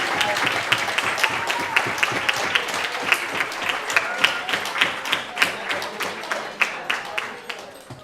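Steady applause from a crowd at a youth forum's winners announcement, many hands clapping continuously with a few louder claps standing out, filling the space for several seconds.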